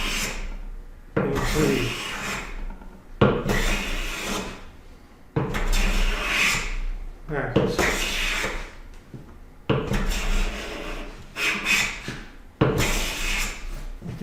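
A hand plane works the rough side of a wooden board in repeated rasping strokes, about seven of them, each a scraping, slightly chattering pass with short pauses between, and one word spoken briefly.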